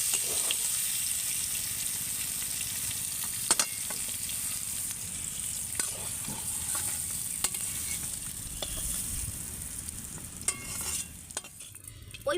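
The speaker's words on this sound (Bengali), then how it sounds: "এবার আমি এই ভাজা পটলটাকে নামিয়ে নেব" Pointed gourd (potol) frying in oil in a pan, a soft steady sizzle with occasional clinks and stirring scrapes, fairly quiet and close.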